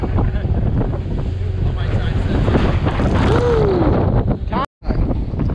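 Water sprays and splashes against a moving fishing boat under constant wind buffeting and engine rumble, with a brief dropout near the end.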